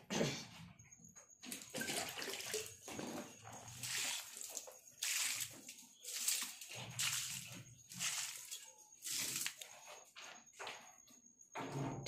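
Carried water is poured out in several sloshing, splashing bursts that come and go irregularly over the span.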